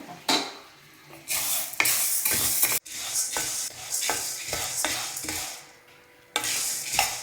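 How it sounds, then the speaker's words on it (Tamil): Green gram (moong) dry roasting in a pan on a low to medium flame, heard as bursts of rattling, scraping stirring strokes with short pauses between them, close up, no voices. "இந்த பாசிப்பயிரை இப்போ நான் ஒரு சட்டியில் ஒரு பேனில் சேர்த்துக்கிறேன் சேர்த்துட்டு இதை நல்லா லோ ஃப்ளேமில் வச்சுக்கலாம்"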